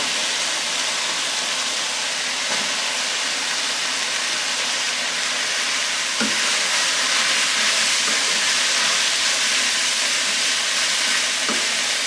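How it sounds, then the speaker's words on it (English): Peppers and beef mince sizzle loudly and continuously in a hot pan, a dense steady hiss with occasional faint stirring scrapes. "The mince has now turned a nice shade of brown rather than grey, and that means it's been frying."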